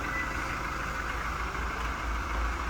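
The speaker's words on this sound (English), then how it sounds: "Very quiet engine, much more refined than the older engine as well." A Toyota Hilux pickup's 2.4 D-4D diesel engine idles quietly and steadily, a low, smooth, unbroken hum heard alone with no voices.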